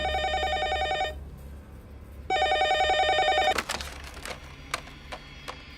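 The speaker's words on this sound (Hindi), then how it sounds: "मेरा फोन क्यों नहीं उठा रहे थे?" A telephone rings in two bursts of electronic bell tones separated by a pause, followed by a few short clicks and clatters as it is picked up, moderately loud indoors.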